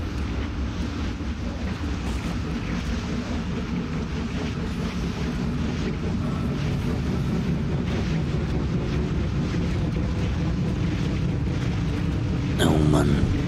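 Steady, loud rushing wind from ventilation fans fills a scene in the horror game Dead Space, constant throughout with a brief sharper noise near the end.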